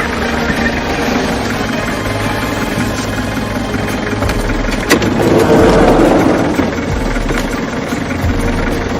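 A car engine running steadily, loud and close, with a continuous low drone and rumble and a brief surge in the middle.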